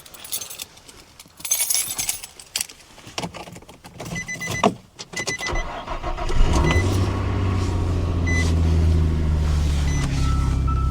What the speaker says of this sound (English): Get that truck warming up.